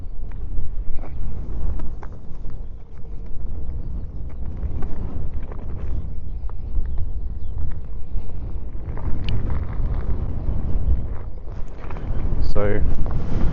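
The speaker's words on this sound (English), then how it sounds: "it's really windy. Hopefully you can hear me" Strong wind buffets the microphone during a Onewheel Pint ride, a loud, low, continuous rumble with gusty surges, with a voice talking over it at times.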